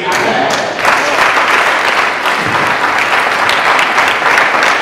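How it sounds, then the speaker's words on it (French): A church congregation at a Christian Bible training centre launch bursts into loud, sustained applause, dense clapping filling the space steadily for several seconds. "Applaudissez-moi."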